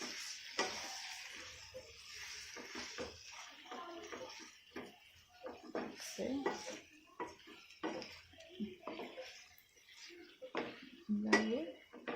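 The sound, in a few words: stirring chicken pieces in a pan for chicken curry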